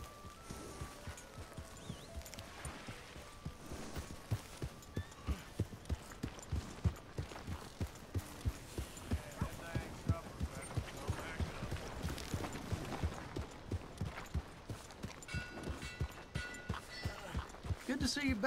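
Horse hooves clip-clop in a steady trotting rhythm in the Red Dead Redemption 2 video game, a run of evenly spaced thuds lasting throughout at moderate loudness, with faint game background sounds and occasional talk.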